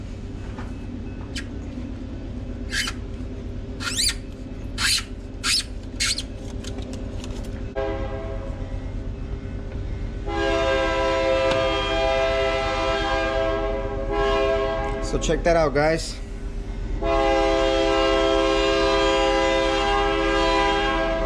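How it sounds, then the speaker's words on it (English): A train rolls past with a low steady rumble, its loud horn blaring in long sustained blasts; someone speaks briefly near the start. "Man, that train always has to pass by when I'm recording."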